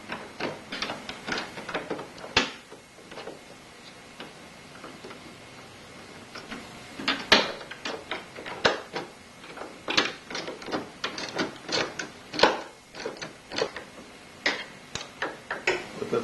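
Bolts and nuts are removed from a 2001 C5 Corvette headlight motor with a ratchet or tool, giving rapid clicking and ticking bursts in irregular clusters, fairly close and moderately quiet, with pauses between runs.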